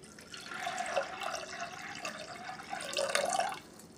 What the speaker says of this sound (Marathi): त्याच्यामध्येच आपण पाणी घालून घेणार आहे.